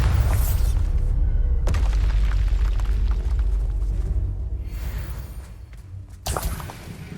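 Heavy magical blast from the Bombarda spell in Hogwarts Legacy, a loud booming explosion with whooshing rumble that sustains for several seconds, then fades, followed by a second sharp burst near the end.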